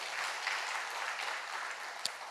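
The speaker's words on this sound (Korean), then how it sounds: "다시 한번 박수로." A congregation at a church service gives sustained applause, a soft even wash of many hands clapping in a large room, heard alone throughout.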